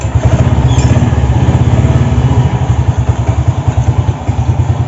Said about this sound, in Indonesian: lanjut kita nyalakan mesinnya ya